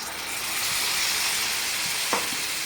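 Masala with garam masala and coriander powder frying in a pan, a steady close sizzle with stirring, and one brief splash partway through as two tomatoes' worth of puree goes in.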